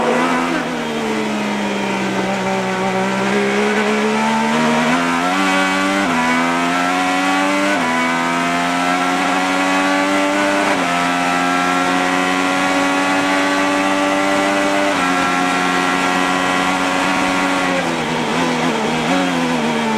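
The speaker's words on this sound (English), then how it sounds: "You can hear him go from full throttle straight to the brakes." An IndyCar engine roars loudly at full throttle during the 2013 Sao Paulo Indy 300, its pitch climbing and dropping in repeated sweeps as it shifts and backs off for braking.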